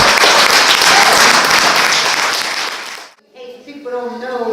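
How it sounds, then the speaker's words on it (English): A crowd at a Free Mumia protest rally in Philadelphia claps loudly and steadily for about three seconds, then the applause fades and a single voice begins talking. "a round of applause for our wonderful comrade and sister"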